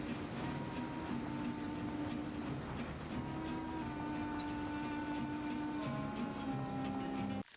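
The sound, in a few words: train riding on rails in the video game Mafia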